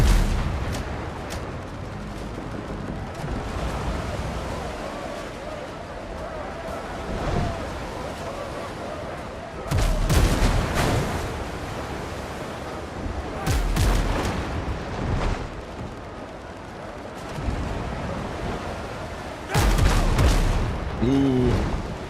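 Ship cannons firing in Windrose, heavy booming blasts at irregular intervals, several loud volleys over a rumbling sea-battle backdrop, with a voice talking in between.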